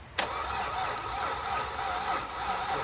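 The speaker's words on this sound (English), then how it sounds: "The engine was cranking over better" An abandoned car that has sat for years, with a badly worn battery, has its engine cranking over steadily and close, a sharp click at the start followed by continuous even churning.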